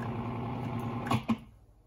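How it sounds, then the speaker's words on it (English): A food processor pulses briefly while whisking flour, a low motor hum running about a second before two quick clunks and a stop into quiet. "put your lid on your food processor, and we're just going to whisk it around a couple times to kind of fluff up the flour"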